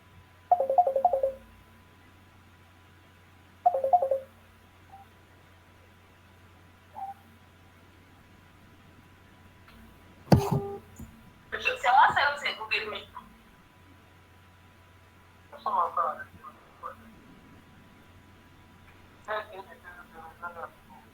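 The Google Meet call ringing tone plays as a series of short, repeated chimes spaced a few seconds apart, moderately loud, with people talking in between.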